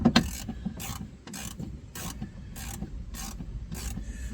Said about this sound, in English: Now I'm not going to tighten these front ones up yet until we get the back started.